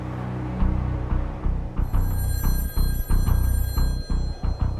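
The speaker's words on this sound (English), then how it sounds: "So the phone rang" A telephone bell starts ringing partway through, its bright repeated trill sitting over a rhythmic, thumping background.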